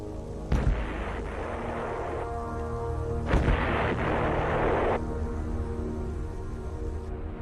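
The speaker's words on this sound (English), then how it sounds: "call in supporting fire from the Army's huge 175mm self-propelled guns" Army 175mm self-propelled guns firing during the Vietnam War near Khe Sanh, two heavy, sharp booms about three seconds apart, each followed by a rolling echo over a steady low rumble.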